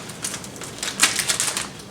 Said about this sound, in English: So let's start with getting the bag of goodies open. It's just a piece of tape holding the Ziploc bag closed.